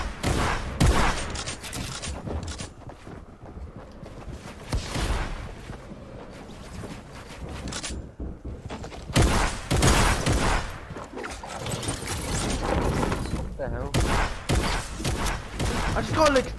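Video game gunfire in Champion League Arena: irregular bursts of shots and heavy thuds scattered throughout, loud and close, with people talking over them at times.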